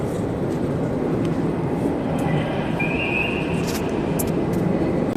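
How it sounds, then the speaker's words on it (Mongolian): An Istanbul metro train arriving at a station: a steady, loud low rumble of wheels on rails fills the whole stretch, with a thin brake squeal rising briefly near the middle. "За метро ирж байна"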